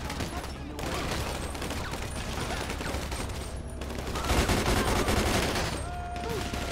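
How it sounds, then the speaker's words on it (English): Gang gunfire in GTA 5 with the LSPDFR police mod rattles in rapid, continuous bursts at moderate distance, with a voice under the shooting. "they still shooting."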